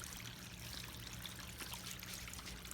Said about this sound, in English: I'm going to back up and show you where you hear the water